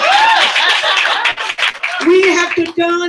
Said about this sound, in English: So clap for Donald Trump.